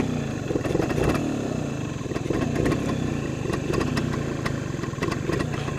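A 1975 Suzuki RV-90 motorcycle engine idles steadily up close, a continuous mid-pitched putter with a faint rhythmic pulse and no talking.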